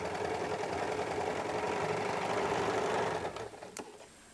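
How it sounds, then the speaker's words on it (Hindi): Electric sewing machine running steadily, double-stitching a shoulder seam on a size 34 belt blouse, a continuous close whirring drone that cuts off after about three seconds into a few faint clicks. "इस पर डबल सिलाई कर दीजिए ताकि अच्छे से पक्का हो जाए।"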